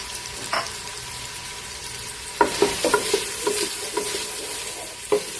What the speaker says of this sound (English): You can hear it sizzling a bit.